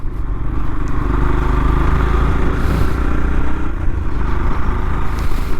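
A Yamaha FZS motorcycle engine hums steadily on a monsoon ride through the Kasara Ghat and Igatpuri area, almost buried under loud, constant wind roar with no pauses.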